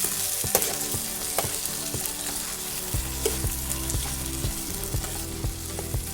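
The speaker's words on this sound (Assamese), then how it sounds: "অকণমান দেৰি ছফ্ট হোৱালৈকে ভাজিম।" Onions and tomatoes fry in a pan until soft for a palak paneer dish, with a steady, close sizzle broken by regular clicks and scrapes of stirring throughout.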